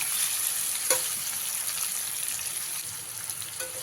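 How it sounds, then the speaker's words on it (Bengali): Potato and pumpkin frying in oil over a medium flame, a dense, even crackling sizzle heard close and steady throughout, with one brief knock near the start. "গ্যাসের ফ্লেমটা এসে মিডিয়ামে দেবেন দিয়ে খুব ভালো করে আলু আর কুমড়োটাকে ভেজে নেবেন"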